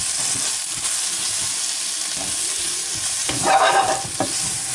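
Chicken and aromatics sweat in a frying pan for caramel chicken, a steady close sizzle with scraping stirs and a louder burst of frying near the end, no voices.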